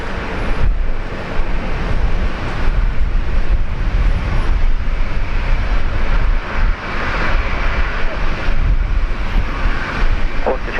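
An Air New Zealand airliner at Brisbane Airport produces a steady, broad jet roar that runs throughout, with low rumble mixed in and no clear breaks.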